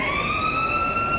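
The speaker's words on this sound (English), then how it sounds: "there it is, the final siren here at Sydney University" The final siren sounds at an AFL Sydney Australian football match between Sydney Uni and UTS at Sydney University. It is one loud, steady, sustained horn-like tone that holds unbroken throughout.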